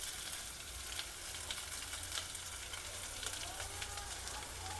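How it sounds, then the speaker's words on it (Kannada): Onions frying in a pan with bay leaves and curry leaves for palak paneer: a continuous bright sizzle and crackle of hot oil, steady and close, with faint stirring scrapes underneath. "ಫ್ರೈ ಆಗಬೇಕು ಒಂದು ಸ್ವಲ್ಪ. ಇದು ಈರುಳ್ಳಿ ಎಲ್ಲ ಇದು ಕಂದು ಬಣ್ಣ ಬರಬೇಕದು."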